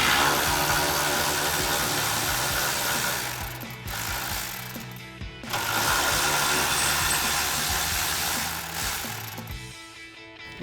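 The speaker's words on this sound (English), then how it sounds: "we're going to grab our 13mm socket and our ratchet to go ahead and get that off" A ratchet turning a 13mm socket to remove mounting bolts from a bracket on a Silverado 1500 during a suspension lift install, a steady loud mechanical clatter that runs nearly continuously with two brief pauses.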